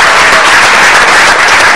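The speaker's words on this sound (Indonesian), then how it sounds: "kita kasih tepuk tangan untuk 3 narasumber kita." Loud, dense applause from an audience thanking three guest speakers at a talk show, steady clapping throughout.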